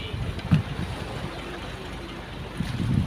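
Calm sea waves and light wind around a small fishing boat on open water, a faint, steady rushing wash with a couple of soft, low surges near the start and end.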